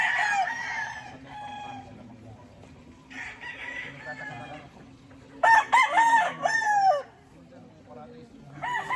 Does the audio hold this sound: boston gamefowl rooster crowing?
yes